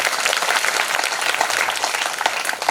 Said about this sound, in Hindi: उनके लिए एक बार ताली बजा दो।